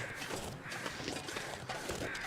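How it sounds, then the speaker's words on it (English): Crows cawing in the snowy wilderness of the video game The Long Dark, a few harsh calls at middle distance over a steady wind-like game ambience, with no talking. "I hear the birds again, and they're not overhead"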